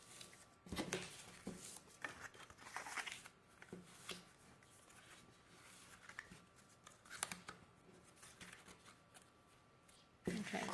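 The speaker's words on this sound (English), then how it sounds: "I'm going to go ahead and fold it along all the score lines" A paper gift box is folded along its score lines, giving soft crinkling creases and light paper rustles in irregular bursts, quiet and close.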